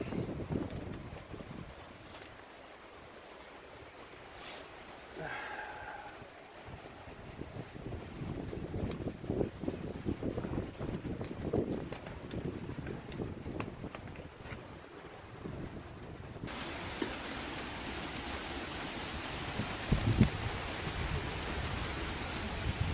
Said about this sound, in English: The wind's kicking it up.